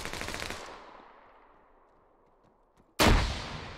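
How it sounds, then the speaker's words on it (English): Suppressing gunfire in a capture-the-flag shooter video game match: a burst of rapid shots fading into a decaying tail, a near-silent gap, then another sharp loud burst of fire. "just suppressing fire with the Fedra there to help him out"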